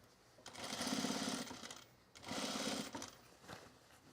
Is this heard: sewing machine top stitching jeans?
yes